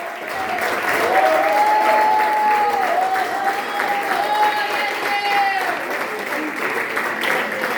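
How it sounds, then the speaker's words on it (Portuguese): A church congregation applauds during a worship service, loud sustained clapping from many people with crowd voices and a held sung or spoken tone mixed in. "Vamos dar a melhor salva de palmas a Deus."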